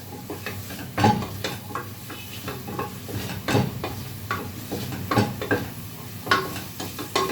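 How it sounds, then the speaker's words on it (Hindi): Onions sauté softly in a pan for desi chicken broth while a utensil stirs and scrapes, with irregular clinks and knocks against the metal. "प्याज को ज़रा हमने सोते किया"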